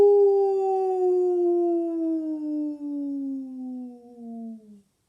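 Person's voice imitating the jungle call from The Jungle Book, one long wavering howl-like cry that slowly slides downward in pitch for about five seconds and then fades out, heard alone.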